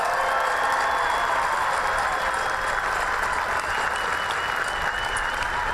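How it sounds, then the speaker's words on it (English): Steady crowd applause fills a large high school graduation ceremony audience, a dense continuous roar of many hands clapping at constant loudness throughout, with no voices standing out. "Please give them all a great big round of applause."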